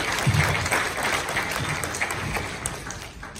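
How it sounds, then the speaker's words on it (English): A live audience bursts into applause for Mitch Hyman, a filmmaker, screenwriter and author, at a talk. Dense clapping fills the room steadily for several seconds, slowly thinning toward the end. "Have a big round of applause for Mitch"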